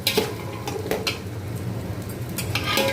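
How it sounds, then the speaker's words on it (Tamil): Garlic sautéing for a homemade pickle, stirred in a pan: a low continuous sizzle broken by repeated metallic clinks and scrapes of a spoon against the pan, close and without voices. "முதல்ல இந்த பூண்டை நல்லா வதக்கி எடுத்துடணும்"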